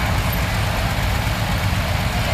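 An old tractor engine, about 40 years old and restored, runs steadily with a loud, low, rumbling drone and no talk.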